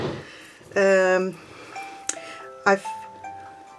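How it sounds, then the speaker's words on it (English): A phone rings with short tonal chimes in a quiet indoor room, bursts of electronic melody that stop and start near the listener, while a person talks. "Sorry, that's my phone."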